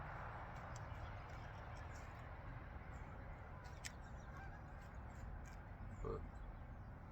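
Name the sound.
geese honking outdoors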